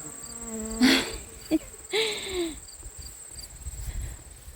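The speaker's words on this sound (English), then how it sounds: "Look at the bees working very hard." A few short buzzing passes of bees around sunflowers come close and fade, separated by quiet outdoor background, with a faint steady high whine throughout.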